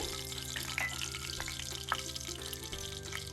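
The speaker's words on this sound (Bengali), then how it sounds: "আমি গরম তেল গরম করতে দিলাম আর সাথে আমি ফোড়নের জন্য দুইটা এলাচি লং তেজপাতা আর দারচিনি দিয়ে দিলাম" Whole spices (cardamom, cloves, bay leaf and cinnamon) frying in hot oil while cooking a yogurt chicken dish, a soft steady sizzle with faint crackles and a quiet hum underneath.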